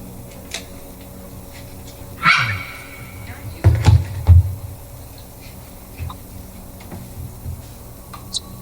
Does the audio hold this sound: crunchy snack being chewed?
no